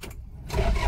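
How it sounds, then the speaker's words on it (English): A manual truck being started with its key, a brief quiet crank giving way to a louder rumbling engine catch in the second half, close by, with no talk. "Let's start a car."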